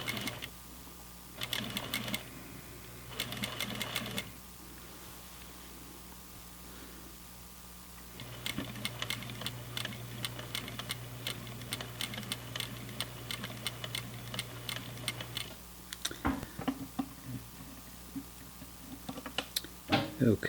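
An industrial sewing machine stitches flannel pajama pants in short whirring bursts, then runs for a longer steady stretch, stops, and starts again with a few quick pulses. It is close and fairly loud.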